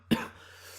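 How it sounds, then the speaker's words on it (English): A single short cough from someone still recovering from a lingering cough, close and fairly loud, then fading into quiet room noise. "I'm still coughing"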